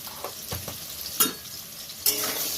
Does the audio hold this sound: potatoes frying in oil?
yes